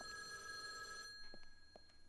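A telephone bell rings in a French-language game scene, a rapid metallic trill that sounds faint and distant, runs for about a second, then stops, leaving a few soft knocks.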